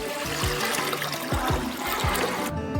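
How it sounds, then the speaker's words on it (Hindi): Water is poured into a pressure cooker on a stovetop, a continuous splashing, gurgling stream for about three seconds that cuts off at the end. "इसके अंदर पानी डाल देंगे"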